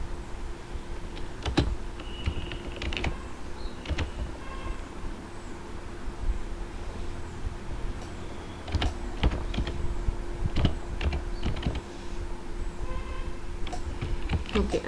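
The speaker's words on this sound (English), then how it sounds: "I am going to type here /marquee." Typing on a computer keyboard, with irregular key clicks and occasional sharper taps over a steady low hum of room or computer noise, close by and moderately loud.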